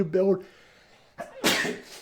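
After a brief spoken word, someone lets out a quick sharp sneeze with a breathy intake before it, close and fairly loud.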